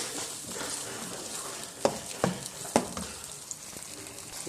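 A chickpea masala with tomato, onion, turmeric and cumin sizzling steadily in a pan, cooking down close by, with a few sharp clinks of a stirring spoon.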